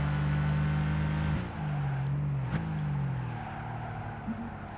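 A car engine in the racing game Gran Turismo 5 hums steadily at a constant pitch, with a couple of gear-change dips and small pitch shifts, close and fairly loud with no voices.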